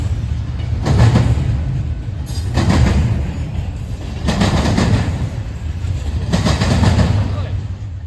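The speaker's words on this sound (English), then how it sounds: "It would be a eastbound UPZ train led by a rebuilt AC6000 in UP's new paint." Eastbound Union Pacific freight train led by a rebuilt AC6000 locomotive passing at close range, a loud, steady roar with repeated rhythmic bursts of rail clatter.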